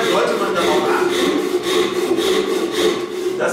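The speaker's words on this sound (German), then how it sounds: "jetzt kann ich sauber runterschneiden. An diesem Riss entlang." A hand saw cuts wood along a marked line in steady back-and-forth strokes, loud and close, with a rhythmic rasping push and pull and no talking.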